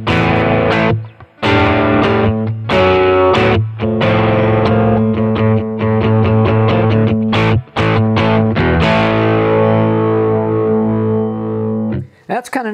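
Electric guitar with heavy distortion through a BOSS SY-1000 guitar synthesizer, played as loud, sustained chords in several phrases with short breaks between them, ending on a held note that cuts off.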